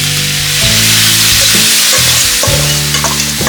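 Loud, steady sizzling of marinated pork caramelizing in a hot pan for pork adobo, with occasional stirring scrapes and shifts in the crackle.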